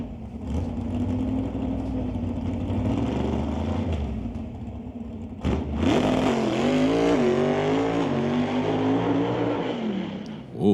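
A 1966 Ford Mustang drag car on a bye run at an NHRA Summit ET race, engine droning steadily, then a louder revving surge with climbing and falling pitch as it pulls through and coasts off throttle.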